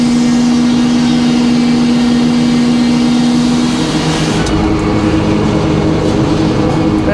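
A saw cuts through rotten oak about 1 5/8 inch thick, giving a loud, steady, engine-like drone throughout that shifts in tone partway through.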